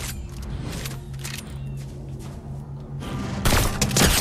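Gunfire in the video game Fortnite, a steady rumble of distant shots that swells into a louder, closer burst near the end.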